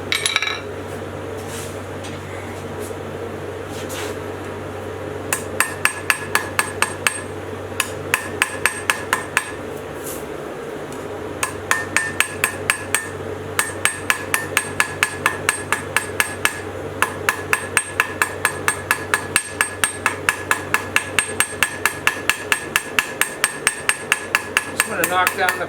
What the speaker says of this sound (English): This is a 2 pound hammer.